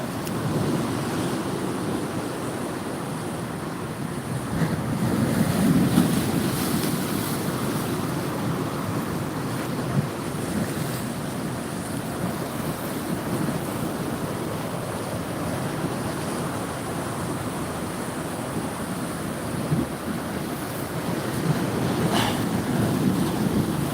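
Steady rushing surf and gusting wind on a beach blow across the microphone, a continuous broad roar that swells slightly at moments, with no voices.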